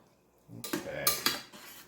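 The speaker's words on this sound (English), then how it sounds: "So we're going to take half our broccoli. We're just going to scoop that right in there. I'm just going to stir it in." A spoon stirs broccoli into pasta sauce in a pot, giving a short burst of scraping and clinking against the metal, close and fairly quiet.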